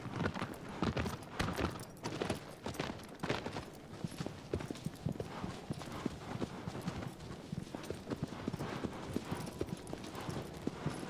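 A horse gallops in Shadow of the Colossus on PS4, a fast continuous drumming of hoofbeats that stays steady and fairly faint throughout, with no voices.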